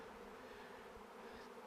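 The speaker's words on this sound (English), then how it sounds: "so I'm literally in a cloud of bees right now" A swarm of honey bees around their queen gives a close, even buzzing hum, soft but unbroken for a brief moment with no voices.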